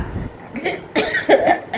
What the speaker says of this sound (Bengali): দেখছো তো কীরকম কাশি হচ্ছে